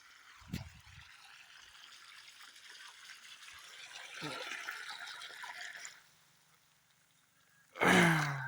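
Water gushes steadily from a broken pipe in a farm field, a faint continuous rushing that fades away near the end, followed by a short loud noise close by.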